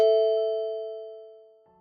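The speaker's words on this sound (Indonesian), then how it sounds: "Bel kamar berbunyi." A single hotel room doorbell chime rings out clearly and alone, its bright tone sustaining and slowly fading over nearly two seconds.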